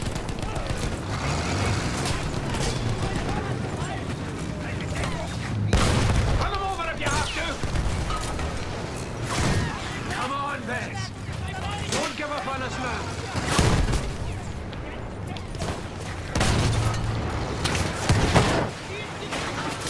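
Battlefield 1 campaign combat with booming explosions and rattling gunfire across a World War I battlefield, loud blasts over constant rumble, with voices talking throughout.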